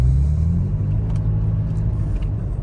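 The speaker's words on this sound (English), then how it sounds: "I left all 12 discs on the Supertrapp, and I think it's good now. It's still got a little bit of a low rumble," A 2018 Toyota Tacoma with a Flowmaster and Supertrapp exhaust drones with a deep, steady low rumble at low revs, heard close and continuous with no voices.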